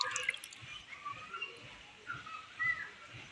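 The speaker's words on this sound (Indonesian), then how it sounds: "Dan airnya juga kencang." Strong stream of tap water runs into a sink basin, a steady soft hiss with faint low knocks underneath, fairly quiet and continuous throughout.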